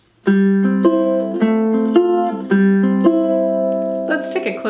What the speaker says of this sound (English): Our second finger picking pattern sounds like this.